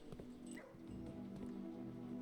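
A puppy in the video game Blue Prince whimpers and yips softly while being petted, short faint canine sounds over a low steady game background.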